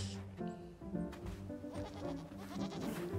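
Little goats bleating in the video game Blanc, a run of several wavering, tonal bleats close by over soft game ambience, with no talking.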